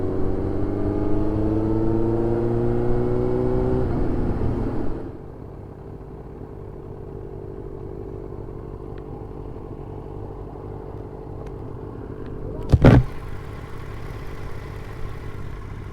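A Yamaha R1 motorcycle engine with a small tick runs nearby, a steady harmonic drone that drops to a lower, quieter rumble after about five seconds, with one sharp knock late on.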